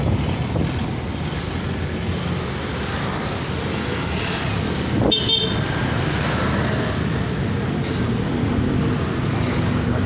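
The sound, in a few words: heavy road traffic in Cebu City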